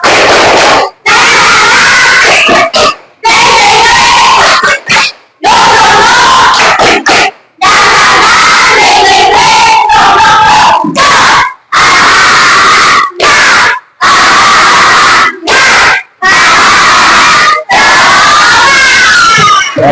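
Schoolchildren in a classroom shout a spirited clap chant together, loud bursts of voices and rhythmic clapping broken by short, sharp pauses throughout.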